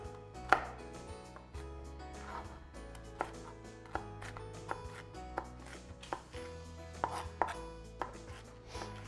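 A knife chops through an onion into rounds on a cutting board, with close, crisp irregular knocks, a dozen or so sharp hits over a quiet room background and soft background music.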